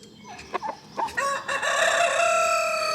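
A rooster crows loudly nearby in a homestead chicken coop, a long drawn-out call following a few short clucks.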